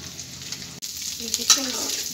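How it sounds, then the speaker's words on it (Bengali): Steady close-up sizzle of goat tripe frying in a pan, with a soft stir and a faint voice partway through. "আমি এরকম 2 দিন শুধু ভেজে নিচ্ছি, 20 মিনিট করে একবার ভেজে নিচ্ছি"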